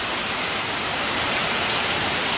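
Heavy storm rain pours down in a steady, dense hiss that fills everything, loud and unbroken, with no voices.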